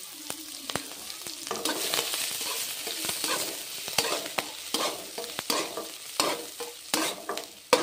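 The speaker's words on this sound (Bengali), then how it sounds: "এবার দিয়ে দিচ্ছি 5 ফোড়ন, দিয়ে দিচ্ছি কাঁচা লঙ্কা" Panch phoron and green chilies sizzle in hot oil, with a steady crackling hiss and sharp pops and spatters recurring throughout, punctuated by scraping stirs close by.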